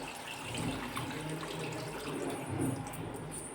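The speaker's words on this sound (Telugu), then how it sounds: "చింతపండు రసం అయితే ఇంకా అందులో వేస్తూ ఉంది" Tamarind juice poured into a simmering fish curry gives a steady liquid trickle and splash, soft and continuous throughout with no talk.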